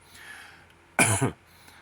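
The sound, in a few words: cough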